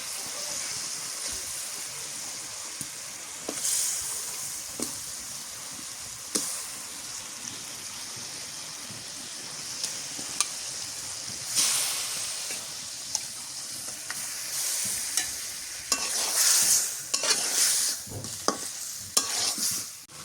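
Fish frying in spice paste while being stirred in a pan during village curry cooking, steady sizzle with repeated scraping stir strokes throughout, growing busier toward the end.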